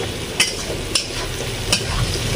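Ivy gourd (kundri) frying in a pan makes a constant close sizzle, punctuated by three or four sharp spatula scrapes and taps at irregular intervals, no speech.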